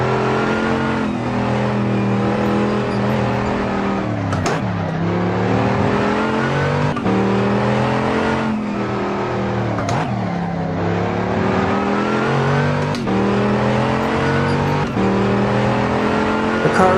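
A car engine in the Assetto Corsa racing game, driven in VR through the Los Angeles canyons, drones loud and steady for the whole stretch, its pitch rising and dropping sharply several times as gears change.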